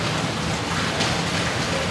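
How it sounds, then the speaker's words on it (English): Heavy rain pouring steadily on an outdoor garden, a dense, constant broadband wash of drops with no pauses, close and fairly loud throughout. "It is raining harder than ever"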